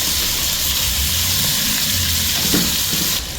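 Tomatoes and spices cook over high flame in a pot for beef pulao, producing a continuous loud sizzle and hiss with a few stirring knocks near the end.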